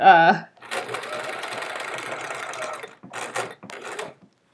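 A sewing machine stitching rows of a chevron quilt, a steady close mechanical whir lasting a couple of seconds followed by short bursts, with someone speaking briefly at the start.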